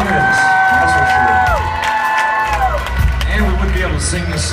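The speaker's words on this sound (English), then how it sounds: "Give a round of applause" A live crowd at a concert cheers and applauds loudly, with whoops and claps under a sustained musical tone and some shouting voices.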